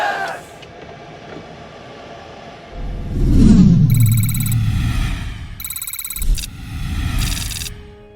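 A diesel truck with a clogged fuel line after an oil change cranks loudly without catching: two bursts of low, rough starter churning, separated by a pause, with high electronic dashboard chimes beeping around them.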